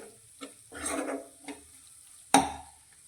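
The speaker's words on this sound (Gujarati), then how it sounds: "મસાલાને આપણે સારી રીતે શાકની સાથે મિક્સ કરી લઈશું।" Spinach and peas with masala are stirred in a pan over a low flame, giving soft scraping and sizzling swishes followed by one sharp clack of the spoon against the pan.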